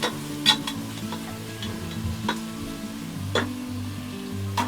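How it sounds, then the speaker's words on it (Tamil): Mushrooms for mushroom biryani being sautéed in a pan until golden brown: a steady low sizzle with a few sharp spoon-stirring scrapes, close and alone. "நல்லா கோல்டன் ப்ரௌன் வர வரைக்கும் நல்லா வதக்கி விட்டுடலாம்."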